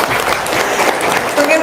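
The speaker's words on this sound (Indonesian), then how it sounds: "Tepuk tangan dulu dong" An audience at a seminar-style gathering breaks into loud, close applause, a brief burst of dense clapping with a voice speaking over it.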